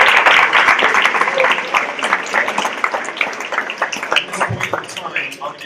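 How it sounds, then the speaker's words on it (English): Clapping from an audience at a college student leadership awards ceremony, loud at first and then thinning into scattered individual claps as it fades, with some talk underneath. "So let's give a round of applause just to get that started."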